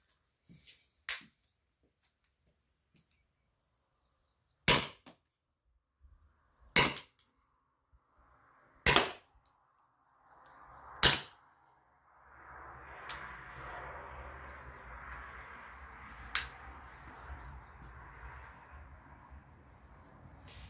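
CO2-powered Salt Supply S2 less-lethal gun firing at a target, several sharp close pops spaced a second or two apart, with a low hiss of background noise growing between the later shots.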